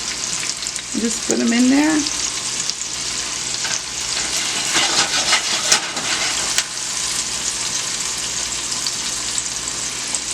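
Meatballs made from scratch sizzle and fry steadily in oil in a pan, a loud continuous crackle with a brief voice near the start.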